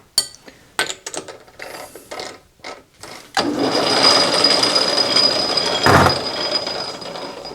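A metal lathe turns down a weld on a ball turner part for a quick change tool post. Several sharp clanks and clicks of setup come first, then the lathe's loud, continuous cutting whir runs on steadily to the end.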